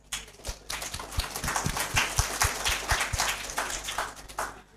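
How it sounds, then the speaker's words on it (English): Audience applause follows an international guest lecture. Scattered, uneven clapping with distinct individual hand claps swells and then continues through the whole stretch in a small room. "And give a round of applause."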